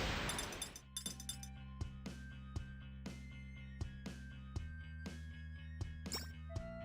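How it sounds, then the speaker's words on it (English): Glass effects from idle enemies in the video game Epic Battle Fantasy 4: bright clinks and chimes ring out roughly once a second over sustained musical tones, each strike crisp and close. "their glass sound effects are quite different now, because the old ones were pretty bad"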